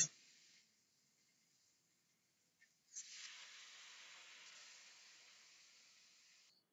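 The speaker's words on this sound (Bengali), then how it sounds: "এবার কড়াইতে দিয়ে দিচ্ছি পরিমাণ মতো জল" Water poured into a hot kadai for a taro-stem curry cooked with hilsa fish head, a soft initial hiss, then a sudden sharp steam hiss at about three seconds that fades gradually, faint and close, with no voices.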